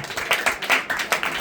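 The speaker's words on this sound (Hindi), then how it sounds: "जोर से ताली बजाए एक बार" A Hindi-speaking church congregation at a Satya Jeevan Welfare Society meeting claps together, giving a run of loud, sharp hand-clap bursts in quick succession, with no talk over them.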